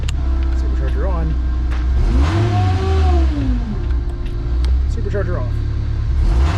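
A supercharged M62 Honda Civic wagon engine idles loudly up close and then revs in a rising and falling sweep, with supercharger whine switching in; a person speaks briefly over the engine at points.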